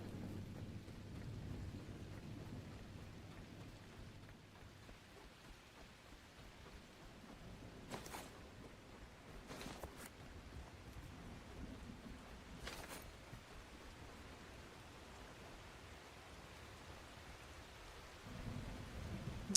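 Steady rain patters throughout, with a few sharp crackles and low rumbles of thunder rolling in and out, from a video game; no voices.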